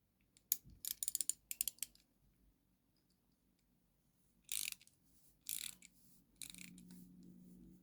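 A screw is slowly undone on a budget guitar tremolo unit, heard as close, quiet bursts of ratcheting clicks with pauses between them, then a faint low metallic hum at the end.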